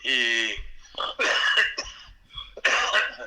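A burst of coughing with throat-clearing, several sharp coughs in quick succession, close and loud, with no talking.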